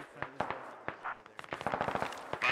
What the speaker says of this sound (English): I'm shooting from the rocks